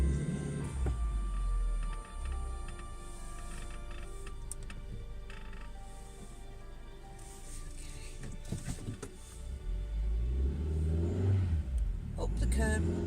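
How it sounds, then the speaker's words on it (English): A car engine hums and revs as the vehicle drives up over a curb, with low rumbling and a few jolts and bumps over the course of the drive. "He's getting in that car now."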